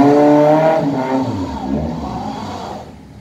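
A car engine revs hard and loud, roaring steadily before easing off and fading near the end.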